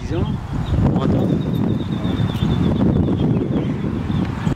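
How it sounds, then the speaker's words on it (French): Strong wind buffets the microphone outdoors at a drone launch site, a steady broadband roar with gusty rustle that never lets up, plus a faint high whine from a drone. "Par contre, il y a beaucoup de vent."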